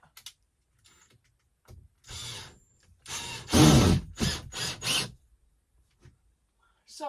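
A power drill driving special star-bit screws, heard as a few short whirring bursts of varying length with brief gaps between them, fairly close and loud, with quiet handling noises around them.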